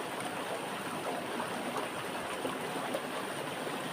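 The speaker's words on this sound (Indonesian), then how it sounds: "Derasnya guys airnya guys." A swift river current rushes steadily past rocks, a constant broadband wash of flowing water heard close and alone.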